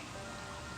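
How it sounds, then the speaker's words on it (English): Rain falls outdoors as a steady, soft hiss of drops, faint and even, with no voices in the brief moment. "It's actually raining here."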